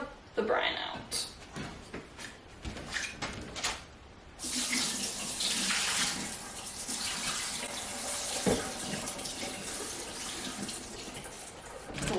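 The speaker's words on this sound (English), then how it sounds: "Pour the brine out." Turkey brine gushes out into a kitchen sink while preparing a Thanksgiving turkey: a steady, splashing water flow that grows fuller and louder midway, close by, with faint voices in the background.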